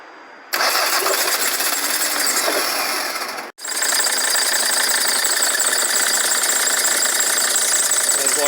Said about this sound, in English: There's like this bit of a bearing noise here, idler bearing or something along those lines.